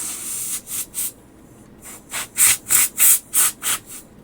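Short bursts of canned compressed air sprayed into the side of an Oakley sunglasses lens frame: about ten sharp, hissing blasts, three quick ones then a pause and a louder, steady series of evenly spaced puffs, close and with no talk.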